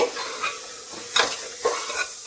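Hot oil sizzles steadily in a pan as spices temper for a mixed vegetable dish while a utensil stirs and scrapes, with a few sharper clinks standing out near the start and middle.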